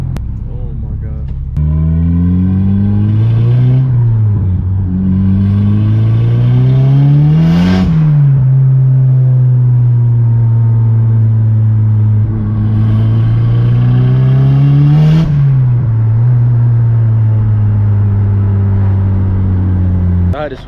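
A car drives slowly, its engine droning steadily and loud with low harmonics that rise and dip through a few gentle accelerations, continuous for the whole stretch.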